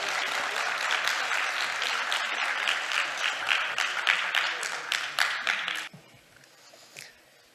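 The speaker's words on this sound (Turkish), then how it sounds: "Tebrik ederim alkışlarınızla." Audience applause at a Turkish informatics and technology awards ceremony, a dense steady clapping that carries for about six seconds and then drops away abruptly, leaving a few scattered claps.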